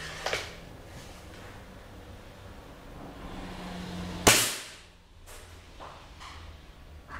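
A CBC F18 air rifle tuned with a gas ram kit fires once, a sharp loud crack followed by a short decaying tail, amid a quiet room with faint background hum.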